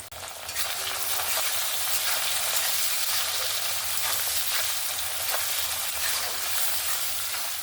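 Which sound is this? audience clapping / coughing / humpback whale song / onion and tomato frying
onion and tomato frying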